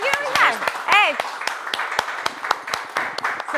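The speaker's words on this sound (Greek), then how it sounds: "Ένα χειροκρότημα για τον κύριο Μιχάλη." Applause for Mr. Michalis at a live glam show: a loose run of sharp, scattered claps from a small crowd, with an excited voice whooping over the start before the clapping carries on alone.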